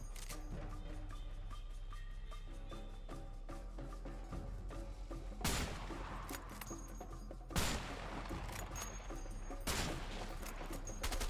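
Rapid bursts of gunfire ring out over a humming game soundtrack in the video game A Way Out, with several sharp, louder volleys spaced a couple of seconds apart.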